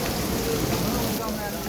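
Heavy monsoon rain falls in Islamabad during the third spell of Sawan, a steady loud hiss of downpour drumming on surfaces, continuous and unbroken.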